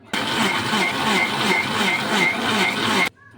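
A kitchen mixer grinder blending mango pieces with sugar and milk runs as a loud, close, steady whirring motor for about three seconds and then stops suddenly.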